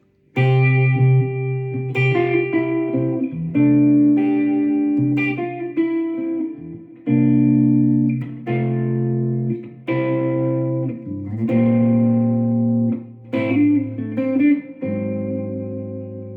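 A melodic guitar passage with a processed, effects-heavy tone, strummed chords and picked notes ringing out steadily with no talking.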